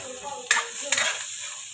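Onions sauté in a pan for squid adobo, a close sizzle with two short bursts as pieces hit the hot oil or get stirred, then a quieter steady fry.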